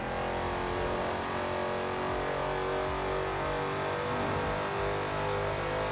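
A drifting car engine in Forza Horizon 4, driven with a Fanatec CSL Elite wheel, roars and whines steadily, holding a loud, continuous, revving tone with no talk over it.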